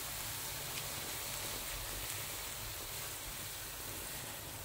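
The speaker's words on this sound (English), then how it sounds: "now I'm just going to add back most of this soaking water that I used." Soaking water pours steadily into a pan in a continuous, hissing splash, faint and unbroken throughout with no talking.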